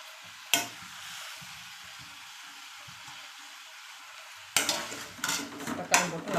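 Onions and tomatoes sauté in a pan for egg curry: a soft, quiet sizzle with one early clank, then a burst of louder, busier stirring and scraping with crackling oil near the end.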